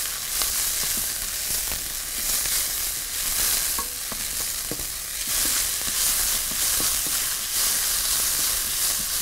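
Onion fries in ghee with a loud, steady sizzle and hiss that fills the whole stretch, broken by light scraping and stirring taps from a utensil.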